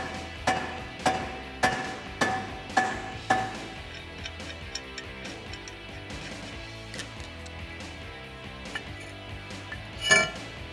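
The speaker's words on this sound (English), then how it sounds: "you guys can tap on it with a mallet like we're doing" A mallet taps on a stuck brake rotor of a 2015-2019 Ford Mustang: five or six sharp metallic clinks at an even rhythm up close, then quieter clatter of tools and parts, ending with one louder ringing strike.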